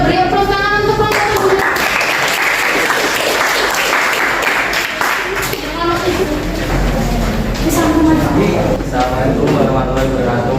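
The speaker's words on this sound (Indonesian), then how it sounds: "Ya, beri tepuk tangan untuk wayang." A classroom audience claps loudly for a wayang performance, with voices calling out and chattering through the continuous applause.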